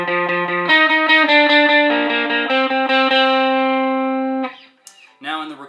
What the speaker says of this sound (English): there's a little lead line that sounds like this